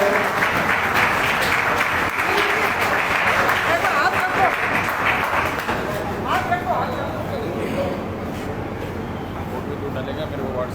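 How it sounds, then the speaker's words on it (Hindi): Sustained applause from an audience at an Aam Aadmi Party workers' convention in Nawalgarh, loud and dense for several seconds, then thinning slightly into scattered clapping and crowd murmur. "सभी तालियों से स्वागत करें।"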